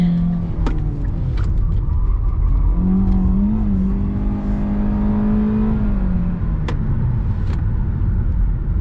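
A 2021 Hyundai Elantra accelerates in sport mode, its engine note held loud and steady from inside the cabin and rising in pitch through the middle before settling, with a few faint clicks and no talk.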